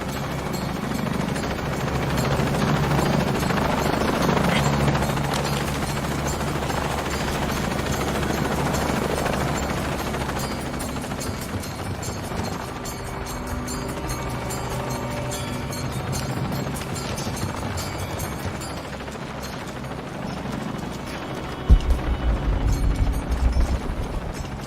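Helicopter in the video game Shadow of the Tomb Raider, a steady low rotor drone and rumble running throughout amid game effects, with a heavier booming burst near the end.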